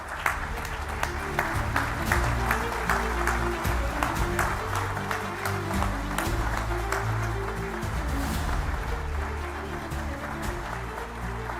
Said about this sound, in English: give the President a bit of a clap